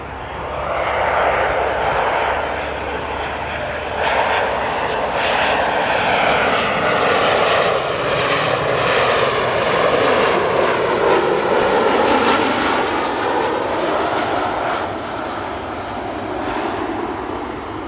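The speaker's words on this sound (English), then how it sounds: "the Emirates have such a high angle of attack when they're flaring out" An Emirates airliner landing at Amsterdam airport, its engine roar steady and loud throughout, swelling slightly as it passes nearby with no voices present.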